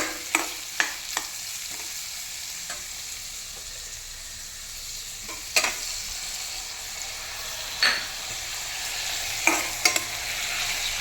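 Onions sautéing in a pan toward golden for a mushroom roast, a steady soft sizzle broken by occasional sharp scrapes and taps of a spatula, close and without talking.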